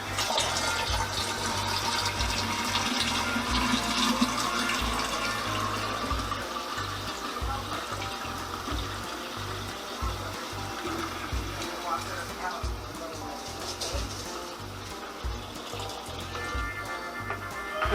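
Cooled brewed tea pours steadily from a container into a jar for homemade kombucha, a continuous close liquid splash and gurgle that lasts throughout, with a voice talking over it at times.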